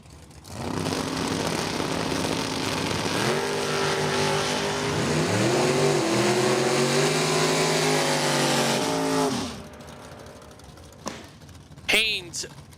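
Drag racing Chevrolet Malibu and first-gen Camaro launch and roar down the strip, engines climbing through gear changes in a loud, sustained howl that fades abruptly near the end, with an announcer's voice over the noise.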